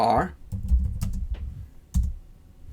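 Close, crisp keystrokes come from a computer keyboard as a short command is typed, a quick burst of clicks followed by a final key press, with a brief moment of speech at the start.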